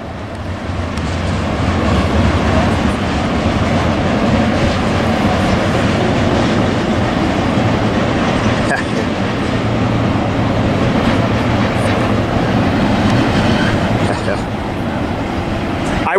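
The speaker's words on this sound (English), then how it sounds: "to think this is all one train" A long freight train rolls past on the tracks at the Tehachapi Loop, a loud continuous rumble with wheel clatter throughout, and voices talk faintly in the background.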